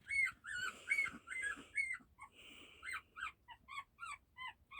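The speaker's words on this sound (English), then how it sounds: "I hope the dogs will stop crying." Dogs whimper and cry in a series of high, whining yelps, several short rising whines in quick succession, fairly close and alone with no talk.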